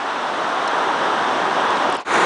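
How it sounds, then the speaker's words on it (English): Waterfall at its lowest drop pouring into a stream just above the Merced River, a loud, steady broadband roar of rushing water that holds constant throughout, with one brief dip near the end. "The sound is deafening, and the water is rushing down here into this stream"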